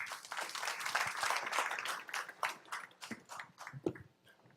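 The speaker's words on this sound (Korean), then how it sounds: "박수로 모실게요." A startup forum audience in a small hall claps to welcome a lawyer to the stage, the applause dense at first and then thinning into scattered individual claps as it dies away.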